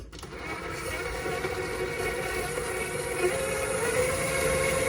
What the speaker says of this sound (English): now I'm going to mix all this together